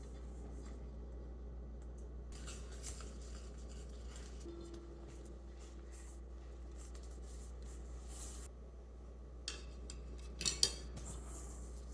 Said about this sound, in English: I'm going to whisk everything together a little bit to dissolve the starter.